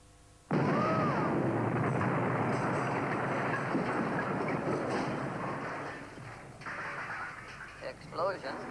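A sudden loud, wide blast bursts in half a second in, then a long roaring rumble sustains and slowly fades, with voices talking over the tail end; a laboratory mishap in a sitcom-style setting.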